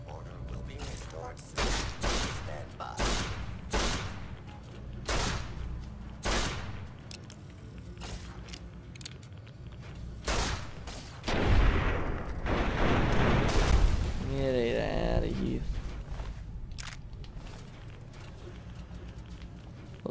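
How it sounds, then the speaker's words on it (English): Robots in Fallout New Vegas fire guns in a run of sharp, loud shots, some single and some in quick bursts, with a voice talking over part of the gunfire. "your robot's shooting me"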